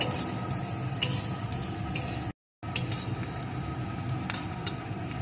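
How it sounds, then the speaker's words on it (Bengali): Cut carrot pieces fry in a pan with a steady close sizzle, joined by occasional scraping stirs of a spoon against the pan. A brief dropout breaks the sound midway, and no one speaks. "এখন দিয়ে দেব টুকরো করে কেটে রাখা গাজর গাজরটাও একটু ভেজে নেব"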